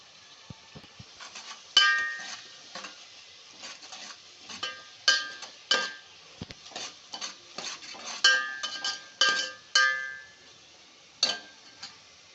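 Brinjal, potato and cucumber pieces being stirred in an oiled pan with salt and turmeric, a spoon scraping and clanking against the metal in irregular bursts over a faint sizzle, close and alone.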